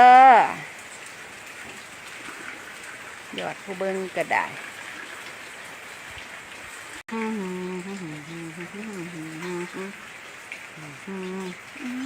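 Steady rain falls throughout, a continuous even hiss, while a person talks and a bird chirps intermittently over it.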